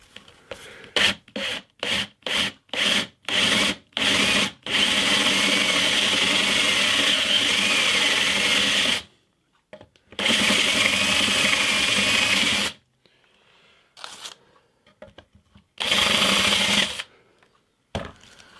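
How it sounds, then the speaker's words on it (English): A drill bores into guitar-body wood with a Forstner bit, first in a rapid series of short bursts, then in longer sustained runs separated by silences, close and fairly loud. "I need to just go in with a force and a bit just to take a little bit of material out"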